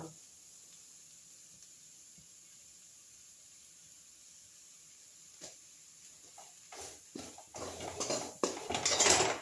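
Chicken and potato curry stirred in a pot with a metal spoon, soft scrapes and clinks that start faint and grow louder and busier toward the end.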